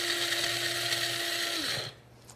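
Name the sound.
blender grinding pumpkin seeds into powder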